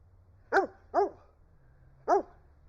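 A dog barks on command three times, sharp and close, with short gaps between the first two and a longer pause before the last.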